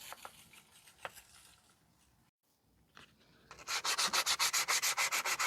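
Rapid, loud back-and-forth sanding on the rear brake shoes of a 2010 Subaru Outback 3.6, a steady string of abrasive strokes that follows a few scattered rubs and a brief pause.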